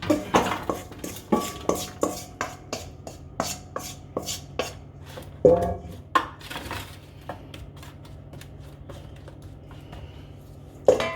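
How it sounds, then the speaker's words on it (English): Oil-coated vegetables tipped into a roasting pan, heard as a quick series of rhythmic clinks and knocks from a utensil on metal, then quieter rustling and a final knock, close up with no talking. "I'm gonna put this in a roasting pan."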